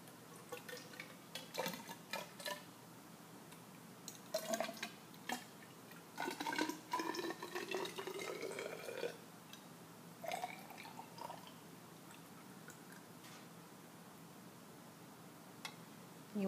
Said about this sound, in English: Then it says fill burette with tap water.